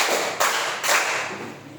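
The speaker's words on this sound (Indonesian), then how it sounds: "Tepuk tangan 3." Three hand claps in a classroom clapping exercise, sharp broadband bursts close by, with a faint murmur of children underneath.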